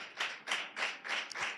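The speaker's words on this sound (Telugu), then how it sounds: "చప్పట్లు కొట్టి దేవుని నామమున మహిమపరచాలి." A church congregation claps in unison: five or so distinct, rhythmic bursts of hand claps, fairly soft and evenly spaced, with no other sounds between them.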